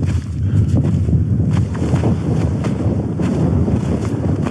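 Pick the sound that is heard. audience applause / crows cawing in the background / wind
wind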